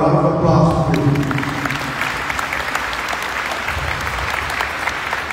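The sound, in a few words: audience round of applause at send-off ceremony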